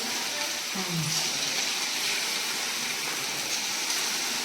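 Tempering in hot oil sizzles continuously as a steady hiss throughout, near and fairly even, with faint background sounds mixed in.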